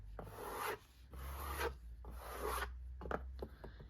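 Fingers rub repeatedly over the soft velvety backing of a YouTube Play Button plaque, three long close rasping strokes in steady rhythm followed by a few shorter scratchy brushes, heard alone without talk.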